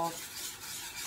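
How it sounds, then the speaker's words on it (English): Cocoa powder being stirred into melted butter and Guinness for Irish car bomb cupcakes, a short continuous scraping, rasping stir in a bowl, close and soft, with no voices. "I'm gonna go ahead and add my first bit of cocoa powder, and I'm gonna stir this"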